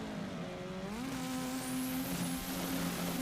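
A Honda Civic and a Toyota Supra drag racing down the strip at Maryland International Raceway: engines wail with pitch climbing steadily through the gears, a sustained, moderately distant roar.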